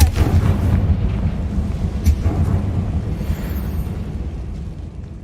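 A deep, booming blast from the Confringo explosion spell in Hogwarts Legacy opens loud, then fades into a long, rumbling roll with a faint sharp crack partway through.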